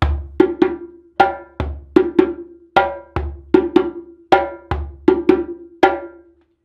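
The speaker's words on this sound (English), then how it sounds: "A very simple example of a rhythm putting all three sounds together would be a rhythm we call kuku" Kuku rhythm on a djembe, sharp hand strikes in a steady repeating pattern of bass, tone and slap notes, close and loud with no talking.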